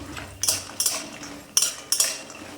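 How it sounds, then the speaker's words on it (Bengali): Homemade lentil dumplings (bori) being stirred as they fry in a metal pan, five sharp metallic spatula scrapes in an uneven rhythm over a faint sizzle, close and fairly loud. "যতক্ষণ না বড়িটা লাল হচ্ছে ততক্ষণ নাড়ব"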